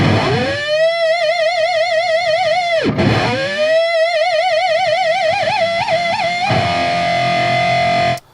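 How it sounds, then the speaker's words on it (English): A sustained electric guitar tone warbles and pulses through an effect pedal sequencer and a Strymon Flint tremolo and reverb, its pitch wobbling rhythmically, then settles into a steadier held note before cutting off. "Right now I have the effect pedal actually changing the lengths and the rates of the sequence."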